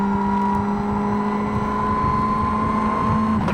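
Joe Panizzi's 2003 World Rally car at Rallye Deutschland holds a steady, loud engine note with strong sustained harmonics, a continuous near-field rally engine pulling hard at high revs with no talk over it.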